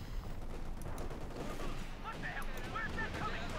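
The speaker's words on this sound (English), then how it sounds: "Calliope firing way here" Calliope rocket artillery firing in Company of Heroes 2, a dense rumbling barrage of launches and explosions with rapid crackling bursts, heard under a commentator's voice as whistling rocket sounds rise near the end.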